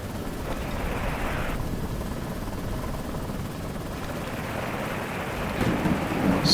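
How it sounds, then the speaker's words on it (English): Thunderstorm in the ghost-ship video game Lazaret: a steady, loud roar of wind and heavy rain with rumbling thunder swelling toward the end, no voices. "Storm is pretty bad."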